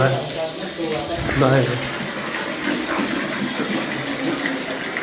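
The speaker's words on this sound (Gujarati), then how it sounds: "3 વાગ્યાનો વરસાદ ધમાકાદાર એન્ટ્રી થઈ છે" Heavy rain pours down in a steady, dense hiss, with people talking over it.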